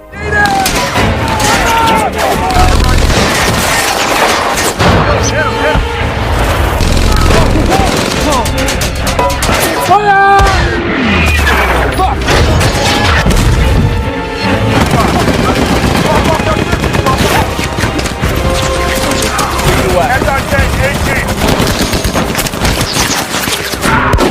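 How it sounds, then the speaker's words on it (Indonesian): Dense gunfire barrage in a tank battle film between American Sherman tanks and enemy forces: continuous rattling fusillades and machine-gun bursts with occasional deep booms, loud and sustained throughout, with voices shouting beneath. "rentetan senjata menghujani mereka"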